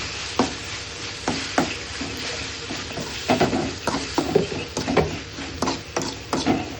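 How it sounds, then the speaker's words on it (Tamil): Tomatoes cooking down in a pan with turmeric and salt, a steady close sizzle broken by repeated scraping strokes of a spoon stirring the mixture. "மஞ்சள் போட்டு நல்லா வதக்கிக்கலாம்."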